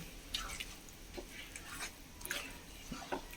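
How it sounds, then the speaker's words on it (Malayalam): Rice flour being stirred with water into a smooth batter for ada, faint wet squishing and dripping strokes in an irregular rhythm, close and quiet with no talking. "വെള്ളം ചേർത്ത് നന്നായിട്ടൊന്ന് കട്ടയില്ലാണ്ട് ഇളക്കട്ടെ"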